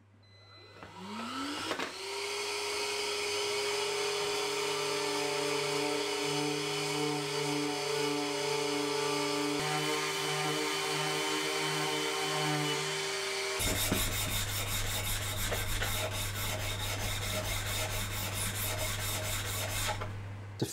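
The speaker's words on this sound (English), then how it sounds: "give it all a sand down" A power tool spins up with a rising whine to sand down a handmade wooden piece, then runs steadily and close, with the pitch and grinding texture shifting harshly partway through as it bites into the wood.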